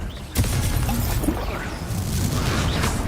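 A Confringo blasting spell in Hogwarts Legacy, one sharp explosive burst with a shattering edge, followed by a sustained crackling, rumbling tail at fairly high level.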